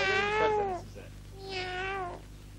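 A cat meows twice: two long, drawn-out cries separated by a short pause. They sound moderately close over a low, steady background hum in a 1974 Turkish film scene.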